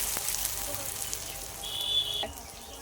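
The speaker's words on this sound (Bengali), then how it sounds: "পেঁয়াজ আমার ভাজা হয়ে গেছে।" Onions sizzle in hot oil for egg biryani, a soft continuous frying crackle close by, with a brief thin whine near the end.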